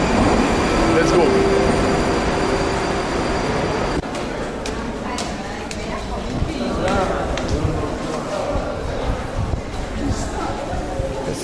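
Tashkent metro train in a Soviet-style station, a loud continuous rumble of the train running and braking with rattling and faint squeals, under people talking nearby.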